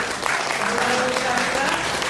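Brief burst of audience clapping at a student entrepreneurship workshop, dense and even, with some voices blended in.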